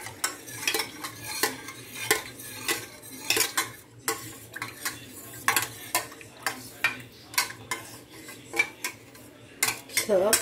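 Ground spices and whole peppercorns are mixed in a bowl with a utensil, giving a run of quick clinks and scrapes in an uneven rhythm, close and fairly loud, with no talking.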